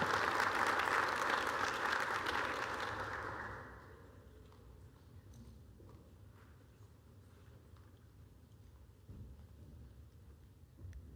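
Audience applause at a re-entry conference, loud and dense for the first few seconds before cutting off abruptly, leaving a quiet room with faint rustling.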